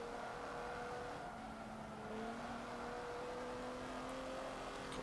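Racing car engines in Forza Motorsport 7, cars passing a BMW on track: a steady, droning engine whine with sustained harmonic tones that shift slightly in pitch, moderately loud and continuous with no talk.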